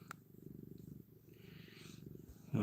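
A house cat purrs softly and rhythmically up close during a belly rub, a low steady rumble with a brief louder bump at the very end.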